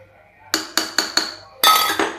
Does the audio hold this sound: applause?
no